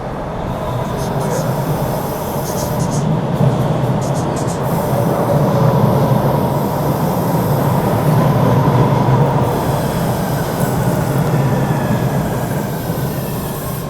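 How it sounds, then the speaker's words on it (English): A train rolls past with a continuous loud rumble of rail wheels and faint squeals at the top, holding steady for the whole stretch. "Here comes the train again."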